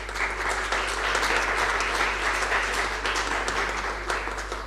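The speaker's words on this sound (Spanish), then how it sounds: "señor Antonio Tello, un aplauso para él." Sustained audience applause for a speaker at a literary talk in Río Cuarto, Argentina, a dense, even wash of clapping from a large crowd that runs steadily throughout.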